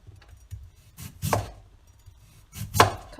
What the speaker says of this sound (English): it's time for us to cut the potato into long and thin shreds.